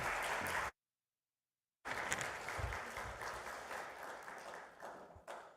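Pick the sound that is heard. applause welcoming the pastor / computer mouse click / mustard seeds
applause welcoming the pastor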